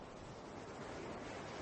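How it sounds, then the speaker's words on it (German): Ocean waves washing onto a beach, a soft continuous surf roar with a gentle swell, faint and distant with no voices. "Die Wellen kamen und gingen."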